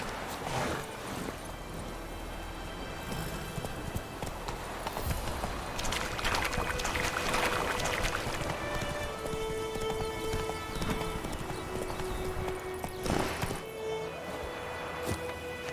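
Horse hooves clip-clopping at a gallop in The Witcher 3 video game, a steady rhythmic beat under game music and ambience, with a neigh partway through.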